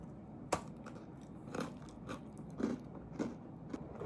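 Quiet, close crunching bites into crispy pastry, a few sharp crisp snaps spaced irregularly with soft chewing between them.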